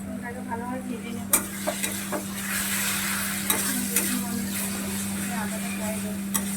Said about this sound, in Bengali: এবার রসুনের পেস্টটা দিয়ে দেবো আগে